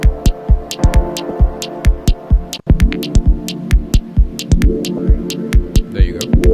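Dub techno chords pulse through a Moog filter and echo processing, rhythmic thumping stabs with a sustained hum and ringing echoed tails, loud and close, with a faint swept tone near the end.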